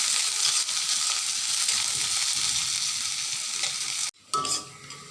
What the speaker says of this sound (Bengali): দিয়ে এখন এগুলোকে নেড়ে চেড়ে ভেজে নেব।